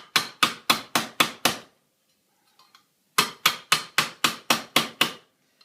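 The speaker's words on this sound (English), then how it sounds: "Then I'll go with a nylon mallet just to true those up." A nylon mallet strikes silver sheet on a silversmith's small wheelbarrow piece, delivering a quick run of about six sharp, even taps, a brief pause, then about eight more.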